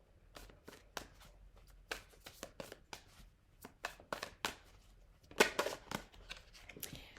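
Tarot cards are shuffled by hand in a series of crisp, irregular riffles and slaps, quiet and close, with a denser flurry of card snaps near the end.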